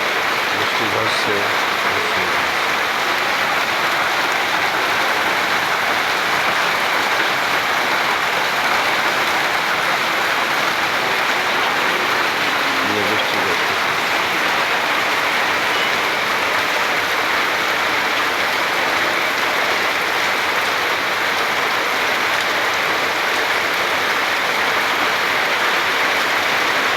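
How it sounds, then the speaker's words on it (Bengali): Heavy, steady rain pours without pause, a dense broadband hiss that stays even and loud from start to finish with no talk over it. "এখন বৃষ্টি ঝরছে তো ঝরছে"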